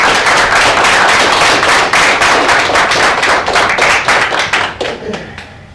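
An audience claps to welcome a speaker to the stage, dense close applause that holds loud for several seconds, then thins and fades out near the end.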